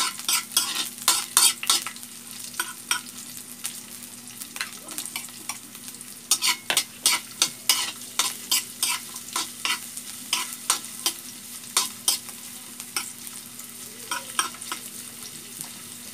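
Ginger frying in a pan for chicken adobo, stirred with a utensil in repeated sharp scraping clinks over a light continuous sizzle, close and steady with brief pauses.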